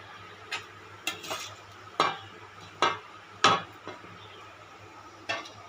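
Rui fish curry with poppy seed and mustard paste simmering in a pan, with a spoon scraping and knocking against the vessel in several sharp, irregular strokes over a low bubbling background.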